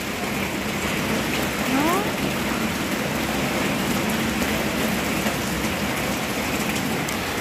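Steady rain pours down in Nepal, a constant dense hiss drumming on surfaces with no letup, while a voice briefly speaks over it.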